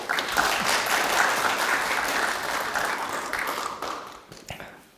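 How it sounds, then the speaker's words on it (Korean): A seated forum audience in Chuncheon claps warmly to welcome a guest, a dense, steady wash of applause that holds for about four seconds and then thins out toward the end. "뜨거운 박수로 맞아주시기 바랍니다"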